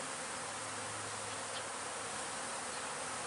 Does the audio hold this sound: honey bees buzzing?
yes